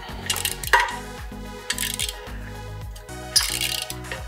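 A wrench with an angled head loosens the exhaust manifold bolts on a 2022 Yamaha MT-07 during an Arrow exhaust install, giving repeated metallic ratcheting clicks and clinks in a steady rhythm, close up.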